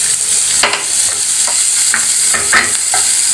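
Loud steady sizzle of onions and green chillies frying in hot oil, with occasional stirring scrapes and pops breaking through the constant hiss.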